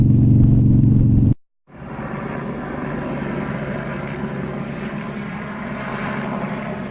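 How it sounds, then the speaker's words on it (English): A steady, loud rotor and engine drone fills the air after a brief cut, continuous and unbroken, from three helicopters hovering overhead. "I did take a little video of 3 helicopters just hovering in the air over work"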